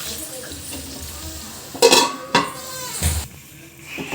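Tomatoes being stirred into frying onions in a pan, a low sizzle under a few sharp spatula scrapes and clanks against the metal pan, with a faint voice in the background.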